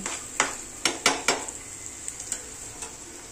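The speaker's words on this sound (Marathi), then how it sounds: "हा कांदा चांगला भाजून घ्यायचा, ब्राऊन कलर येईपर्यंत भाजून घ्यायचा" Onion frying in a pan until brown, a faint sizzle under several sharp scraping strokes of a spatula against the pan, close and irregular, with no talking.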